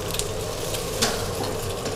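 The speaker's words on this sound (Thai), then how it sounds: "พอกระทะเริ่มร้อนนะครับใส่ไข่ไก่ลงไปนะครับ" An egg fries in oil in a hot steel wok, giving a steady, dense sizzle that stays even throughout, close up with faint clinks and no talking.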